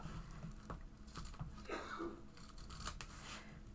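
Scissors trimming the fabric seam allowance of a sewn wristlet, several soft close snips and rustles of cloth, quiet and without speech.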